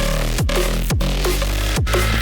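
Drum and bass roller bass synth with reverb, a deep sustained low bass line in repeating phrases that drops sharply in pitch at each phrase end, loud and continuous with no voice.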